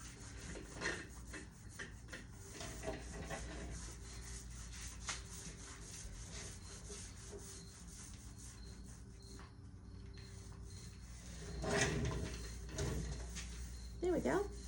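The edge of a paint roller rubs along the edge of a large wooden drawer on an antique buffet, giving a soft, steady swishing rasp, with a few louder scrapes and handling knocks toward the end.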